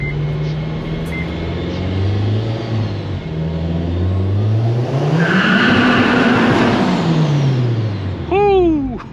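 A supercharged Honda Civic Si accelerates hard in second gear, its engine note rising and falling steadily up close, with supercharger whine climbing over the revs and a quick chirp near the end.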